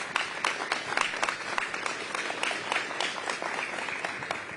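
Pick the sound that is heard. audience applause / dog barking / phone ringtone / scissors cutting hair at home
audience applause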